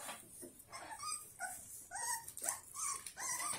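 Four-week-old chocolate tri-colour puppies whimper and yip in a quick series of high, wavering cries, close by and fairly loud, with no talking.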